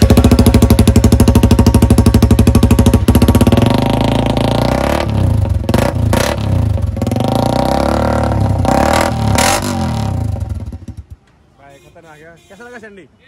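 A Honda CBR 250R motorcycle fitted with a long Bullet exhaust runs close by, a loud throbbing idle that climbs through several sharp revs before cutting off, leaving quieter background chatter.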